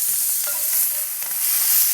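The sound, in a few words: brandy added to hot frying pan with duck livers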